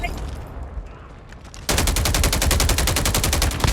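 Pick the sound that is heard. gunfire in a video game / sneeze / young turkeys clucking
gunfire in a video game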